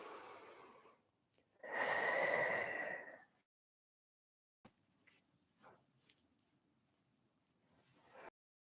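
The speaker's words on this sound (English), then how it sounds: "Exhale as you reach. Inhale as you uncurl." Deep breathing during a floor Pilates stretch: one long, steady breath with a few short, faint breaths and sniffs after a pause, close and without talk.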